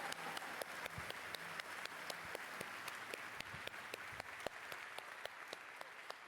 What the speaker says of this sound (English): please, everyone, round of applause